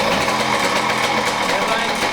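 A 45-year-old motorcycle engine idling after a kick start, a steady close buzzing drone throughout with no pauses.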